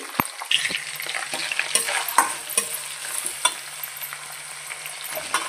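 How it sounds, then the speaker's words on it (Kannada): Chopped onions frying with mustard seeds, cumin and curry leaves in a pan for vegetable rice bath, a light crackling sizzle broken by scraping stirs and small pops, close and without voices. "ಕೆಂಪಗಾಗೋವರೆಗೂ ಫ್ರೈ ಮಾಡ್ಕೊಳ್ಳೋಣ."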